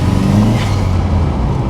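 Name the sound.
VW Golf GTI Mk2 turbo engine accelerating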